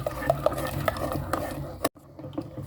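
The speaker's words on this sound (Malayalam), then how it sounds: "നമുക്കിത് അടുപ്പേ വെച്ച് കുറച്ച് സമയം ഒന്ന് ഒന്ന് തിളച്ച് കിട്ടുന്നിടം വരെ ഒന്ന് ഇളക്കി കൊടുക്കാം" A spoon stirs mango pudding mixture in a pot on a stove, giving a run of soft scraping and light clinks against the pot over about three seconds, with a brief quiet gap near the end.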